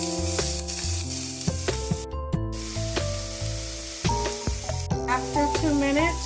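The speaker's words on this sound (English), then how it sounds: "We're going to add in our onion. We're going to let that saute for 2 minutes." Onion sautés in hot olive oil, hissing and sizzling close up while a utensil stirs and taps the pan, with background music throughout.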